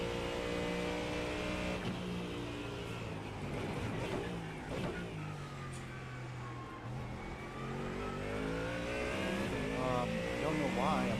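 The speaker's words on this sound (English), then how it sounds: "maybe it's because I've got engine noise in my ears." A race car engine in the iRacing sim at the Sebring 12 Hour endurance race drones and revs, its pitch sweeping up and down through gear changes, while people talk over the steady engine noise.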